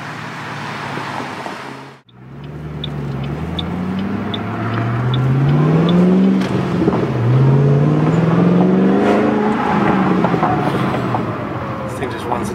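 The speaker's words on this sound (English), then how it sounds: "I just wanted to at least demonstrate a little bit of the in-car sound when you got the windows down." Inside a Roush 427R Ford Mustang with 435 horsepower and the windows down, the engine rises through several loud revving pulls as gears change, with a deep rumble and wind noise throughout.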